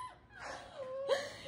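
Young Bernedoodle puppies let out soft, thin whimpers and a couple of short high yips, faint and close, with a brief louder cry near the end and no one talking.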